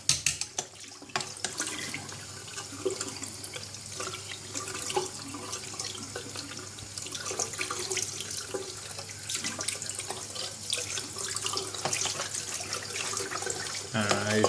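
Eheim Quickvac Pro aquarium vacuum parts being rinsed under a running tap, with a steady close splashing rush of water that continues throughout and turns slightly louder near the end.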